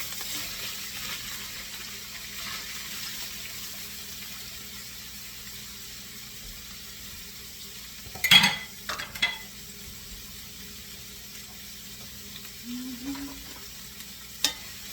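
Shallots and onions sauté over a lowered flame in a paella pan. A soft, even sizzle sits under a few clanks and stirring knocks from a utensil, mostly quiet with brief louder bumps.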